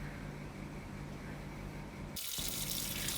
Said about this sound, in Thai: นำมาล้างน้ำสามถึงสี่น้ำจนน้ำใสนะคะ